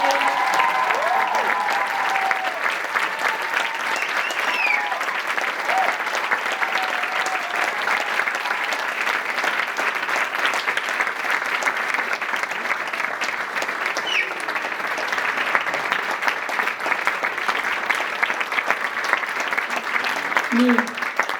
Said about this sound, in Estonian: Teeme suure aplausi.